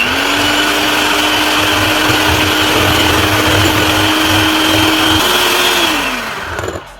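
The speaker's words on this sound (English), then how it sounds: "And we whisk, starting on low speed." An electric mixer whisking on low speed, a loud, steady motor whine with a constant pitch that steps up slightly near the end before winding down and stopping.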